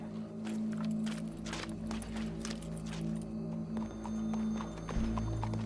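Horse hooves clip-clop in a steady walking rhythm in Red Dead Redemption 2, soft and fairly close, over a low hum with faint rustling, and the pace slackens toward the end.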